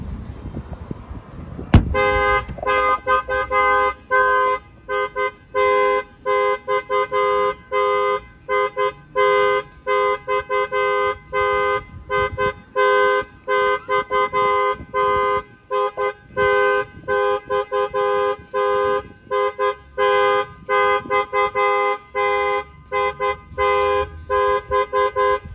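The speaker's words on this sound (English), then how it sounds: "I'm going to go ahead and set off the alarm." A 2020 Ford F-250 car alarm goes off after a sharp thump, blaring loud repeating horn tones in a steady on-off rhythm that continues for about twenty-five seconds.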